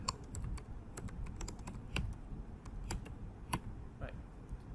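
Quick bursts of typing on a computer keyboard as a search is entered, soft clicky keystrokes in an irregular rhythm, close and fairly quiet.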